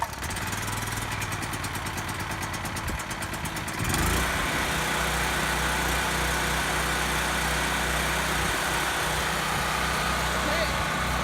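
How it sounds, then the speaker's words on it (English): A Firman 3550-watt portable generator runs after its first cold start, giving a continuous, fairly loud close engine drone whose tone shifts and settles at about four seconds. "First start of the Firman generator"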